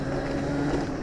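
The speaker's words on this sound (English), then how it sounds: "You guys can probably hear the motor like revving up higher." A 72V electric pit bike motor revs while the bike slides and drifts on snow, a steady, close, continuous whine with a low hum and no pauses.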